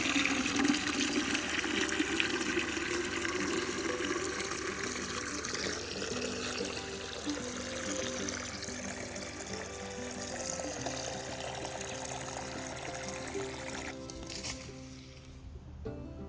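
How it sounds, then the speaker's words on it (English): Water pouring into an antique transplanter used for setting collard greens in a garden, a steady rushing, gurgling fill that stays loud and close before tapering off near the end. "Gotta fill it up with water."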